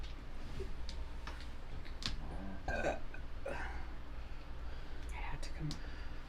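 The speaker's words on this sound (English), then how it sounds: "what is more dirty? A burp?" A person lets out a burp amid casual conversation, the belch rising briefly over ongoing talk and background chatter.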